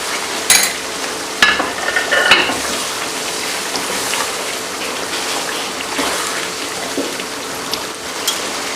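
Green chillies, sliced and stuffed, stirred into achari chicken karahi in a pan, steady close sizzling and frying broken by clinks and scraping stirs of a utensil.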